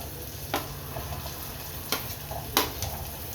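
Cauliflower pieces tipped into a pan of browned garlic and chillies, frying with a steady low sizzle and a few sharp scraping stirs of a spoon against the pan.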